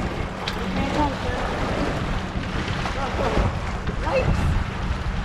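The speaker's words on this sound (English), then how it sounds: "Woo! The waves." Waves on the South River in the Chesapeake Bay slosh around a small boat, a steady close rush of water mixed with gusty wind noise on the microphone.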